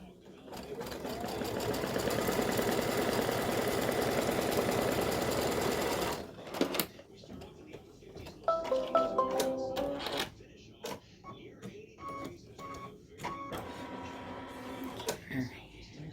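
Computerized embroidery machine stitching a placement line on fabric for an in-the-hoop Valentine gnome mug rug, steady loud rapid needle rattle for several seconds, then stopping, followed by quieter handling clicks and beeps as someone talks.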